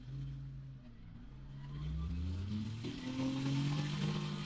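A CFMOTO U10 side-by-side engine revs up toward 6,000 RPM, a steady droning tone rising in pitch and holding loud, heard from inside a soundproofed cab.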